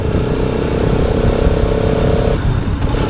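A Bajaj RS200 motorcycle cruising in sixth gear at about 40 km/h, its steady engine drone loud and continuous beneath rushing wind, with a slight shift in tone near the end.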